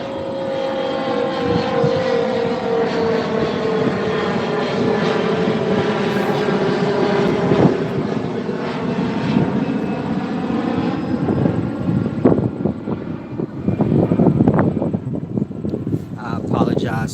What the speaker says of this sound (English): I apologize for the plane.